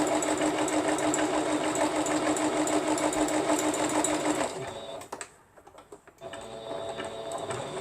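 An embroidery machine stitching an applique design runs with a dense, rapid mechanical whir, loud and steady before it stops briefly and restarts more quietly.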